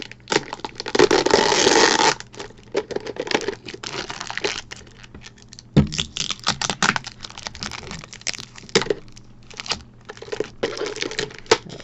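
Scraping, crinkling and clicking noises come in irregular bursts, with a long rough grinding stretch early on, as a stuck jar lid with things stuck to the top is pried and forced open.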